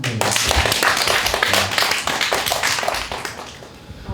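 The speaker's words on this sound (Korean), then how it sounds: "이럴 때 박수 한번 쳐주면 돼요" Students at a youth cultural program at Jangheung Hyanggyo clap together indoors, with loud, dense, close-up applause that thins slightly toward the end.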